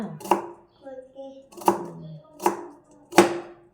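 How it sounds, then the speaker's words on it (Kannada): Four sharp knife strikes on a board, spaced unevenly, as onion and coriander leaves are chopped, with a soft voice murmuring between the cuts. "ಈರುಳ್ಳಿ ಕೊತ್ತಂಬರಿ ಸೊಪ್ಪು ಎಲ್ಲ ಕಟ್ ಮಾಡಿ ಹಾಕ್ಬಿಟ್ಟು ಕೊಡ್ತೀನಿ"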